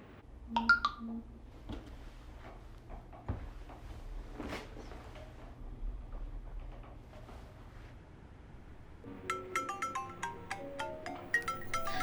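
A phone ringtone in a quiet indoor scene begins about three quarters of the way through as a bright, repeating melodic tune, loud and close, following soft room ambience with a few faint knocks.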